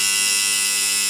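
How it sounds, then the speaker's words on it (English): Darkroom enlarger timer buzzer sounding its end-of-exposure signal: a steady, loud electric buzz held unbroken for about a second, with no talk. "makes good buzzer when you've used up your time"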